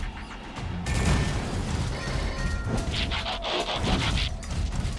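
Mine explosions in the Transformers: Devastation video game, a dense run of crashing blasts and booms with whooshing debris that fills the whole stretch with loud, continuous impacts.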